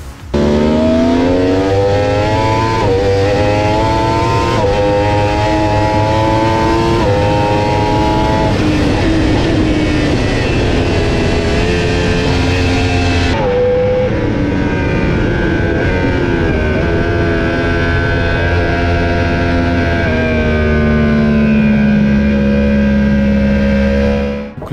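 A 2023 Yamaha R1 race-prepared sport bike warms up its oil at a loud, close, steady rev that rises and eases slightly over a sustained harmonic drone.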